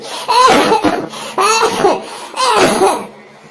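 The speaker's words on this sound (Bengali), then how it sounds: "তোমার মনে হয় একটু কাশি হয়েছে, তাই না?" An animated cartoon character gives three loud, close coughing bursts in quick succession, each rough and breathy with a slightly laugh-like quality, then fades to quiet.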